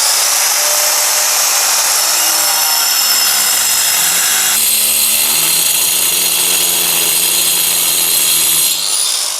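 An angle grinder cuts a chase into a wall for a socket, a loud continuous high-pitched whine with shifting tones as the blade bites into the masonry.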